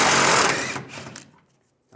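A power tool with a 21mm socket spins out leaf spring shackle bolts on a 2007-2013 Chevrolet Silverado, driver's side; a loud whirring burst winds down and fades to silence, with a brief noise at the end.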